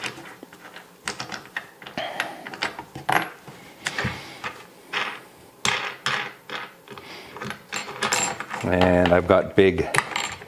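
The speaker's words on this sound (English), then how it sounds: "it's got 3 bolts with wing nuts so it can come undone" Wing nuts being spun off three bolts on a DIY clay pigeon thrower base, giving a run of close, irregular metallic clicks and rattles with washers clinking, while someone talks over them.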